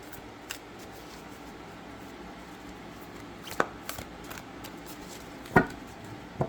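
Halloween-themed Rider-Waite-Smith tarot deck shuffled hand over hand, giving a soft continuous card rustle with a few sharper taps and snaps near the end, close and quiet with no talking.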